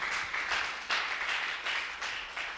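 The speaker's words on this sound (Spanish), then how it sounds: "Denle un fuerte aplauso a Cristo Jesús." A church congregation at a Spanish-language Christian service applauds in a steady, dense wash of claps that swells in several surges. No voices are heard over it.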